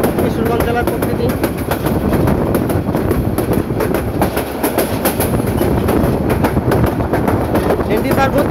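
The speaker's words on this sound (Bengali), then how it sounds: "ট্রেনটি তার গতি বাড়াচ্ছে ধীরে ধীরে" Passenger train on the Bhairab–Mymensingh line through Kishoreganj district, heard from on board as a loud, continuous rumble with rhythmic clickety-clack of the wheels, slowly picking up speed, while a voice talks over it.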